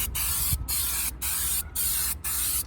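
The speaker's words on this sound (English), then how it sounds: "Shoot on a quick little blast of Super 77, which is a relatively low tack spray adhesive" Super 77 spray adhesive hisses from an aerosol can in several quick, close, loud bursts separated by brief pauses, used during a wooden boat restoration.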